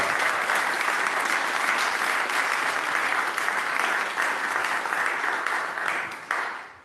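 Sustained applause from a church congregation, dense clapping at steady volume for several seconds before tapering off at the end.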